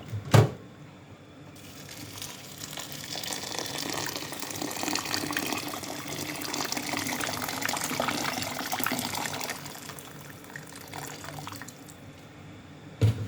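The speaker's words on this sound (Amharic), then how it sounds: "ከዛ ውሃ ጨምራለሁ።" Water pours steadily into a pot of rice and chicken for several seconds, a close, continuous splashing stream that swells and then tapers off, with a soft clunk at each end.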